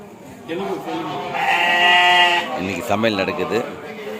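A goat bleats loudly nearby in a long wavering cry, rising over ongoing talk at a gathering where the animal is given for cooking, with people speaking around it.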